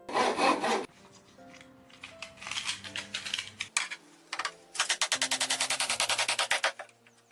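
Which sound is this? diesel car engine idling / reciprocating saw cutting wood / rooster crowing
reciprocating saw cutting wood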